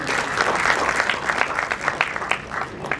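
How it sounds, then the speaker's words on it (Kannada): Applause from the audience at a film trailer launch event, greeting a guest to the stage: a dense, steady patter of many hands that holds for a few seconds with a few sharper claps near the end. "ಚಪ್ಪಾಳೆಯೊಂದಿಗೆ ಸ್ವಾಗತಿಸಿ ನಮ್ಮೆಲ್ಲರ ಹೆಮ್ಮೆಯ SK ಉಮೇಶ್ ಸರ್ ದಯಮಾಡಿ ವೇದಿಕೆಗೆ ಬರಬೇಕು"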